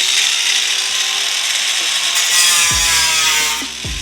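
An angle grinder cuts into a car fender during a flare install, a loud, steady high-pitched whine with gritty metal-cutting noise, ending in a few short clunks as the tool is handled.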